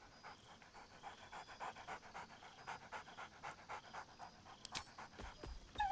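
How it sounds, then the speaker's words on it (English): A dog pants in Baldur's Gate 3, quick rhythmic breaths repeating steadily for several seconds at close range, alone, with a brief whine-like squeak near the end. "Scratch barks merrily in something like agreement."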